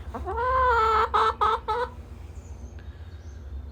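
A backyard hen lets out a drawn-out, rising squawk followed by a few quick clucks, close and loud, over a low background rumble.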